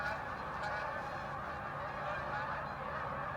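A large flock of geese, around a thousand birds, honking in a field, with dense overlapping calls forming a steady, loud chorus that continues throughout without pause.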